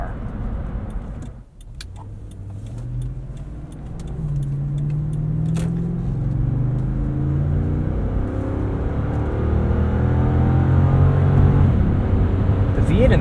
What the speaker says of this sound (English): V8 in this actually sounds pretty good.